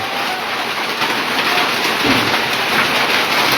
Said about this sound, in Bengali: প্রচুর বাতাস এবং শিলাবৃষ্টি হচ্ছে।